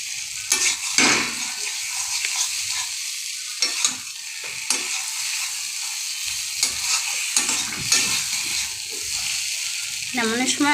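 Pointed gourd (potol) sizzles and fries in oil with a little water in a pan, crackling under steady stirring and occasional utensil scrapes, with a voice talking over it.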